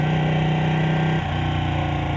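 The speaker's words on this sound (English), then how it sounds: "The bike sounds really good already." A 2015 Ducati 899 Panigale's engine runs at a steady idle close by, a loud, throbbing twin-cylinder burble with a slight shift in tone partway through, no voices.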